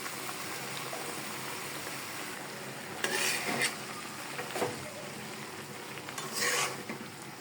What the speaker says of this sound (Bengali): আমি এখন ধুয়ে রাখা লাল শাক দিয়ে দিলাম।